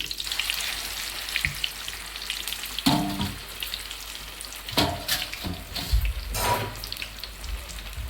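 Gongura chutney with curry leaves stirred in hot oil in a pan, a steady close sizzle and crackle with occasional louder scraping stirs, no talk.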